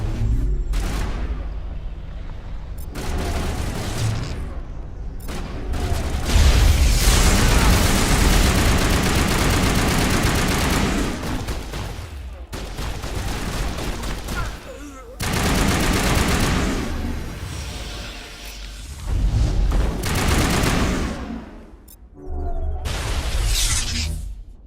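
Firefight in the video game Mass Effect, with dense bursts of rapid gunfire and crackling impacts filling most of the stretch, broken by short lulls, loud and close throughout.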